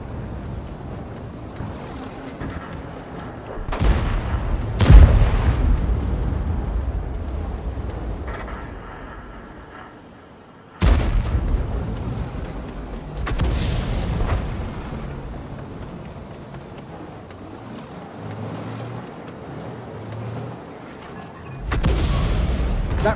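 Heavy artillery rounds from a Lorraine 155 mle.51 self-propelled gun boom in the World of Tanks video game, with a few loud blasts and long rumbling decays over a steady engine and wind drone.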